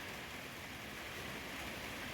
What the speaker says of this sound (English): And it's raining again. Thought we had a lull in the rain there for a minute.